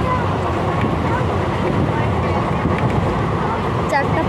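A train runs along, heard from inside the carriage as a continuous loud rumble and rattle with no breaks.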